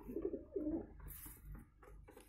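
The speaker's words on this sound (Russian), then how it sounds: "А голуби сюда слетелись." Pigeons cooing close by after flocking to a feeding spot, soft low burbling coos in a couple of quick phrases, fairly quiet with no talk.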